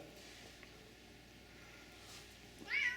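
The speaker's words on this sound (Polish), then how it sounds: "jeden problem jest, jak są koty wkurzone" An angry cat gives a single short, rising meow near the end, close and clear, after a stretch of quiet room noise with no talking.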